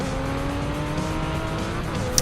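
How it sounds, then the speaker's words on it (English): A race car in Project Cars on PS4 spins its rear wheels with a steady engine drone and a tire squeal, close and continuous. "Lots of rear wheel spin there."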